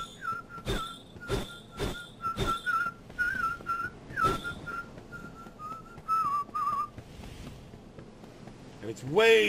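Someone whistles a TikTok tune in a Team Fortress fan version, with sustained, wavering whistled notes that alternate with loud, sharp bonk hits at a regular beat. The sound is close and clear, and a short burst of noise closes the passage.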